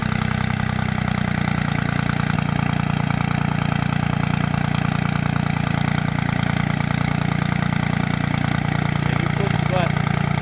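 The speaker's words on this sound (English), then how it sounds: "That rough 3-cylinder high idle you hear at the end is actually a built-in feature to help the engine warm up faster." A 2002 Dodge Ram 2500 diesel runs at a rough, loud high idle in the cold, a steady droning engine throughout.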